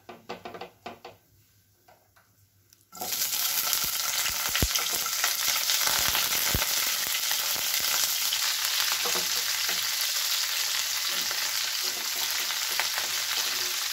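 Vegetables and tomato for a mustard and poppy seed chorchori drop into a hot pan and break into a loud, continuous sizzle after a few quiet seconds of light knocks, with occasional stirring clinks.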